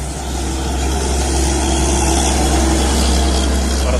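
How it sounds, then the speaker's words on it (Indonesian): A tanker trailer truck's heavy diesel engine rumbles on the road, a loud, steady low drone with constant roadside noise and no speech. "Truk tangki trailer"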